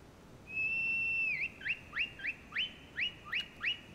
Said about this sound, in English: Let's whistle my horse up.